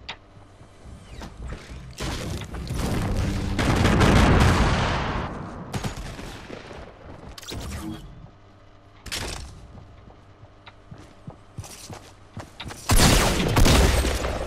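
Gunfire inside the Fortnite video game, heard as several loud, close bursts of shots near a building, with quieter gaps and scattered single pops between them.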